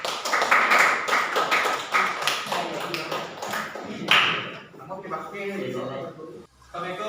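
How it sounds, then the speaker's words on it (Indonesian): Classroom audience applauding group 1 after their presentation: a dense wash of hand clapping for about four seconds that thins out, with voices talking around it. "Kita kasih aplaus untuk kelompok 1"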